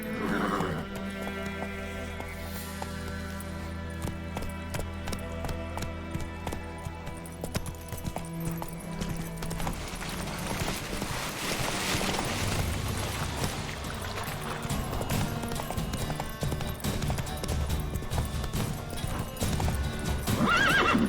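Roach, the horse in The Witcher 3 video game, gallops with a continuous drumming of hoofbeats and lets out whinnies, loud and close over a steady game soundscape.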